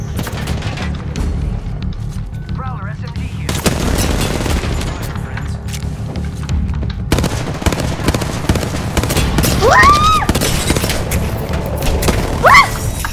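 Rapid Prowler SMG fire and booming shots from a match of the video game Apex Legends, loud dense bursts running almost continuously with a few sharper cracks near the end.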